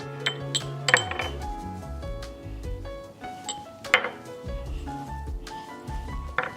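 Browning meat and dry seasonings get mixed in a pan for lasagna, heard as repeated clinks and scrapes of a utensil against cookware in irregular bursts, close and moderately loud with no voices.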